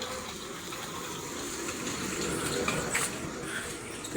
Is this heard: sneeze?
no